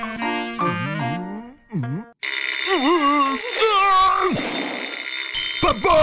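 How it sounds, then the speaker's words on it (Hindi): Animated children's TV comedy scene with a telephone ringing, electronic warbling rings that start after a short pause and repeat several times, loud and close, mixed with cartoon sound effects. "अभी तक नहीं बजा, फोन बजेगा"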